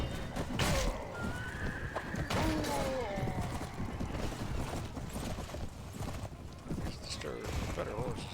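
A horse in the game Mount and Blade Warband gives a couple of whinnies early on, set against hoofbeats, battle clatter and background game noise, with a voice talking over parts of it.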